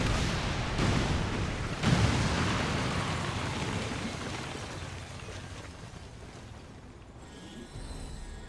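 A heavy detonation in XCOM 2 strikes loud and close, with a second blast soon after, then a long rumbling debris tail that slowly fades before a quieter sound near the end.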